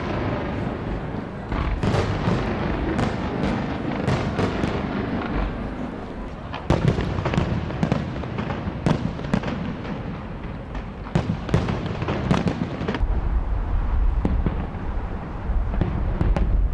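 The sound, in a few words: fireworks display for Russia's national day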